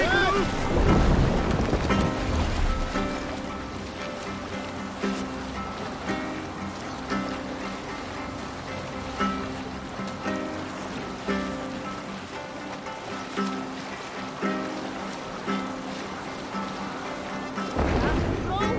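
A Viking longship sailing at sea in Assassin's Creed Valhalla: continuous rushing wind and wave wash with creaking hull, while voices talk over it.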